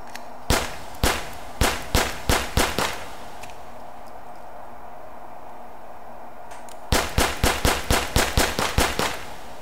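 A pistol fitted with a laser sight fires in the VR shooter H3VR: two close, sharp volleys of about eight quick shots each, separated by a few seconds of quiet background hum.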